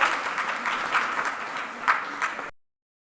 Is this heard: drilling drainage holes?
no